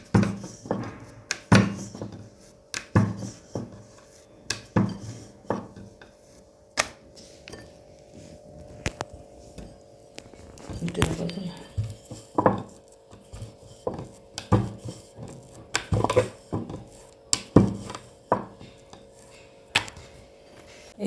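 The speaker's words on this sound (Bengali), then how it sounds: "এইভাবে প্রত্যেকটা লুচিকে আমি বেলে নেব" Luchi dough being rolled out with a rolling pin on a board, giving a series of repeated wooden knocks and thumps in an irregular rhythm, close and moderately loud, with no talking.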